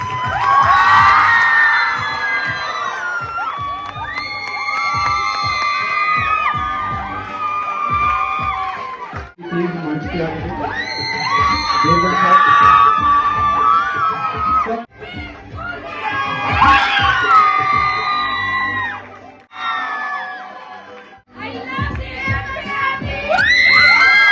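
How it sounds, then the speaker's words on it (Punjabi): A live stage show audience cheering and shouting loudly, children's voices prominent among the crowd, with whoops and bursts of noise swelling and dropping over about twenty seconds. "ਇੱਕ ਵਾਰੀ ਜ਼ੋਰਦਾਰ ਤਾਲੀਆਂ ਦੇ ਨਾਲ ਪਲੀਜ਼ ਦੇਵਗਨ ਫੈਮਿਲੀ ਜ਼ੋਰ ਨਾਲ"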